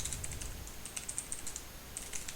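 Shell commands typed on a computer keyboard: a quiet, steady run of light key clicks in irregular bursts with brief pauses, no voices.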